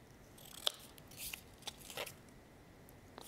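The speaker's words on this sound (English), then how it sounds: "We're going to cut those corners away" Scissors trim the corners off a craft card, a few crisp close snips spaced out over a quiet background.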